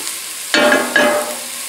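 Two sharp metallic clanks of a spoon knocking against the side of a pot, about half a second apart, over a steady background sizzle.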